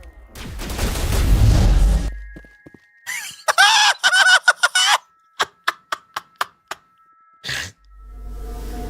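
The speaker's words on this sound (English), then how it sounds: "I was like, Tolly, what the fuck are you shooting at?" Gunfire in the Mass Effect video game, a loud burst of rapid shots followed by a string of separate sharp single reports at a steady pace, then one final blast, with brief silences between.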